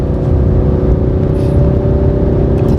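A front-engine, rear-wheel-drive Ford Mustang accelerates through a corner, its engine a loud, steady droning hum heard from inside the car with no voices.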